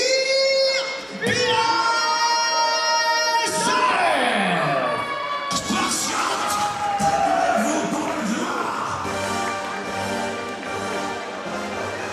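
A lively crowd at a Muay Thai fight cheers and shouts loudly over blaring music as a fighter enters the ring, with whoops rising in waves throughout.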